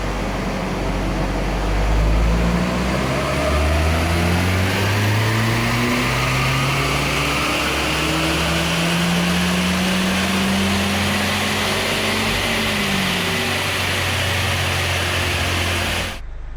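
A Mitsubishi-powered Smart Brabus ForFour engine drones steadily at high load on a dyno, its pitch sweeping up and down in long, smooth rises, loud and continuous with no talking.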